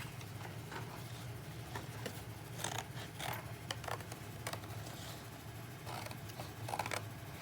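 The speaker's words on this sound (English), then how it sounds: "So now I'm going to go ahead and I'll cut these out." Scissors cutting out paper shapes for a crayon rubbing craft, quiet scattered snips and paper rustles at close range with soft room hum, no talking.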